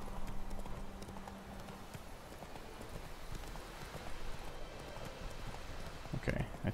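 Roach, a horse in the video game The Witcher III, gallops with a steady, fast clip-clop of hooves that runs through the whole stretch beneath a continuous game soundscape.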